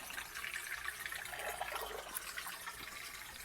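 Magnetic lab stirrer, an ANZESER 3500 rpm unit, spinning water into a vortex at maximum power: a steady broadband churning, swishing rush of liquid, fairly faint and continuous, with no talking.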